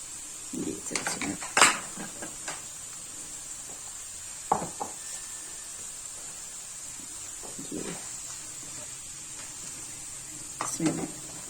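Potatoes fry with browned onion and garlic in a pan, a faint steady sizzle broken by occasional spoon scrapes and clatters, with a voice speaking at times.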